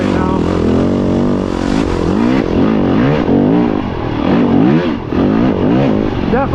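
Dirt bike engine revving hard in fourth gear on a Michigan single-track trail, loud and close throughout with rising and falling engine pitch as the rider accelerates and eases off.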